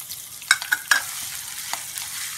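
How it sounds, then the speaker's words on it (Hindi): Grated garlic and a little ginger frying in a pan after cumin while making paneer sabji, with soft continuous sizzling and a few sharp stirring clatters near the start. "अब जीरे के बाद हम डाल देते हैं हमारे पास कद्दूकस किया हुआ लहसुन थोड़ा सा और थोड़ा सा अदरक डाल दिया था हमने"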